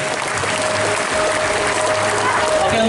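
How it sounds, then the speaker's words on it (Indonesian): Theme-park audience at Dunia Fantasi in Jakarta applauding, a dense, steady wash of clapping that stays loud and even for about three seconds, with a crowd murmur underneath. "Dan tepuk tangan penonton akan membuat Anda lebih bersemangat lagi."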